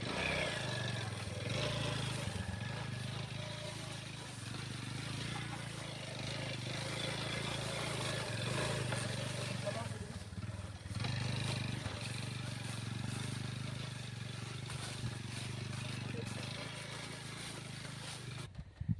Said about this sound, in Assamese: চাই লওক নামটো হিৰো হণ্ডা ফেশ্বন, একদম অল্ড মডেল গাড়ী বাইক